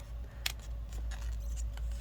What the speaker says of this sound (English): I need to use just the tip of my scissors when I'm cutting out this circle in the middle